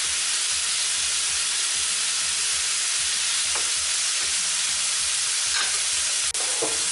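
Shawarma meat fries in a pan with a steady, dense sizzling hiss, broken by a few sharp pops and crackles near the end, with no talking.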